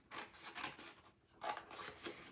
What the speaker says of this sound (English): So we're going to cut these like flaps.